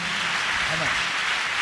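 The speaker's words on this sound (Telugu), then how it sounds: "కొట్టండి చప్పట్లు, శ్రాష్టాంగ పడిపోయారు." An audience gives a short burst of steady applause, a continuous wash of clapping with a voice faintly present beneath it.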